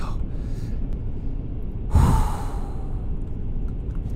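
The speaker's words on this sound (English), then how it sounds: "Breathing in the mic, bro." A sharp, close breath hits the microphone once, a brief gusty burst standing out over steady low background noise.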